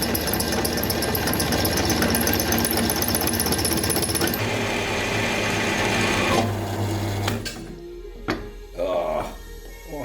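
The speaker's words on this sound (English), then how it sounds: "let's see if I can do this without breaking my drill bit" Pedestal drill press boring through re-welded metal: a loud, steady grinding machine drone that holds for about six seconds, then cuts out into scattered clanks and rattles of the piece being handled.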